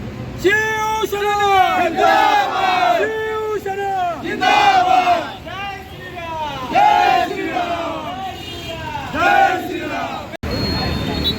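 Loud, rhythmic shouting of a large crowd at a Shiv Sena victory celebration in Khopoli, with chanted phrases rising and falling in repeated bursts, close and continuous throughout.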